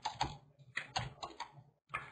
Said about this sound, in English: I'm just typing it out.